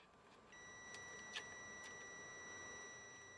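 A multimeter in continuity mode beeps faintly while testing diodes in a Panasonic TV that won't turn on, a steady thin electronic tone holding for about three seconds over quiet background noise.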